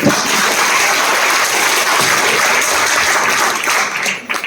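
An audience at an indoor success-story event breaks into loud sustained applause, dense clapping holding steady before tapering off at the end.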